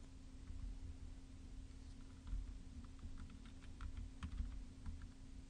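Light typing on a computer keyboard while entering membership dues data, soft irregular key clicks over a faint steady electrical hum, fairly quiet and close.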